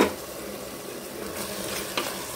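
Mushroom biryani masala with turmeric, Chettinad style, being stirred in a pan: a steady close sizzle with soft scraping and a couple of brighter spoon strokes, no voices.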